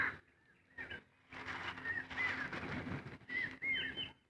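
Birds, including crows, gathering at a house in the early morning to be fed biscuit pieces and rice, with chirps and calls coming in several bursts amid rustling and flapping, at moderate distance and without speech.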